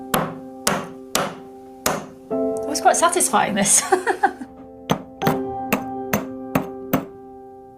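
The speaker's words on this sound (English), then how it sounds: "Hammer it until it gets smaller and smaller." A lump of rock is struck with a hammer to break it down for paint pigment: sharp, evenly spaced blows ring out, then a burst of rapid smaller knocks, then steady strikes again, with a person speaking briefly.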